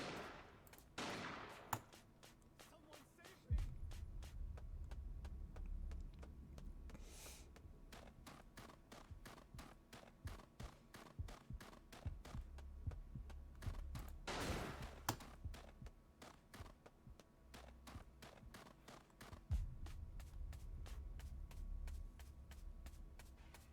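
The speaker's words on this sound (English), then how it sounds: "Mai just has a fucking shotgun" Shotgun blasts fired by the character Mai in a video game, a rapid run of sharp bursts repeating throughout over a steady low game soundtrack, with heavier booms at intervals.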